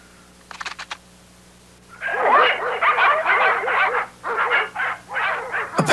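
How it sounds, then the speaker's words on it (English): A pack of wild dogs barking and yelping in rapid, overlapping bursts, fairly close and loud, after a short, sharp call at the start. "A pack of wild dogs."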